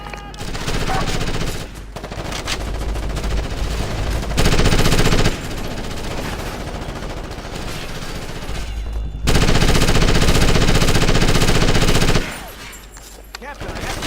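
Sustained machine gun fire in the Ghost Recon Advanced Warfighter video game, loud and dense bursts running almost continuously with brief gaps, a heavier stretch near the end, and faint voices under the shooting.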